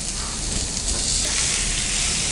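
Chicken pieces sizzling steadily in a pan with masala during sautéing for a Tamil-style pichchu potta chicken fry, a dense, even crackle with no pauses.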